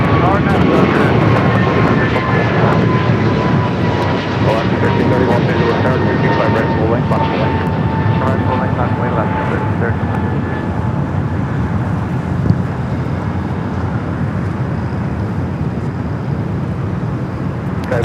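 Airbus A220-300 jet arriving from Provo, Utah, landing at Los Angeles International Airport, a loud broad engine roar with a slowly falling whine sustained throughout, wind buffeting the microphone and a person talking over it.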